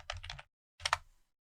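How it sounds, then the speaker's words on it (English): Two short bursts of typing on a computer keyboard, quick key clicks in close, clear succession separated by a brief pause, with no talking. "and then type my own text."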